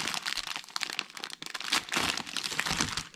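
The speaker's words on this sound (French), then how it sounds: "Et je viens simplement couper mon pain d'épices" A knife cutting through gingerbread on a small board, a steady crunchy, crackling rasp with brief dips, close and fairly loud, no talking.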